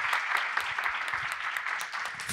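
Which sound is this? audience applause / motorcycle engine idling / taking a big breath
audience applause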